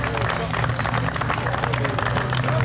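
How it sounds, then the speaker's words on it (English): A crowd at a speaking event applauds, a dense continuous clatter of clapping mixed with crowd babble, fairly loud and unbroken throughout. "Round of applause, folks."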